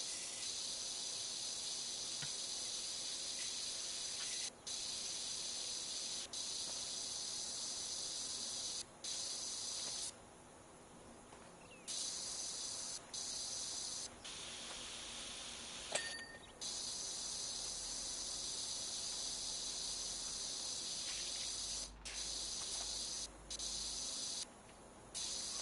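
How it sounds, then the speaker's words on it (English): Steady, hissing spray of a pressure washer in the video game Power Wash Simulator, running nearly continuously with several brief cutoffs as the trigger is released and pressed again. "When you absolutely have to spray everything."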